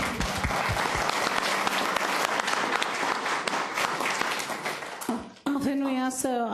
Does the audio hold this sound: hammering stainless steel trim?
no